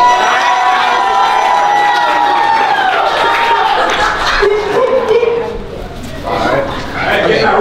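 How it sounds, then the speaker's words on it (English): A talent-show crowd in Orlando, Florida cheers and shouts loudly and continuously, with excited voices and children's yells dominating; clapping is not distinct under the din. "Clap if you like him."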